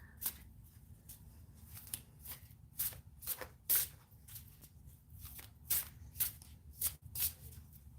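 Tarot cards are shuffled repeatedly up close, a series of crisp riffling bursts in an irregular rhythm over a quiet background.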